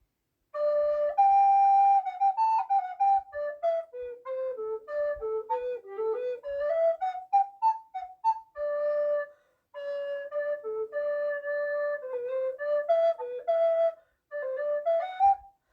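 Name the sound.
recorder playing fugue melody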